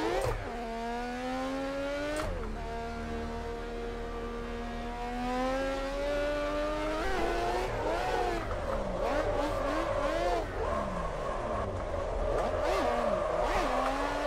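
Mad Mike Humbul's drift race car at FIA 2019 Tsukuba running at 80% boost, its engine loud and close, revving hard in rising, falling sweeps as it shifts and accelerates through the run.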